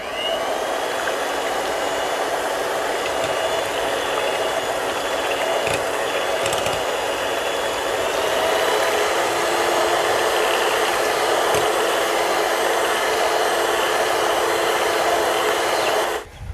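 An electric mixer beats cream with vanilla essence, a loud, steady high-pitched whine with a rattling mechanical buzz that runs continuously before cutting off at the very end.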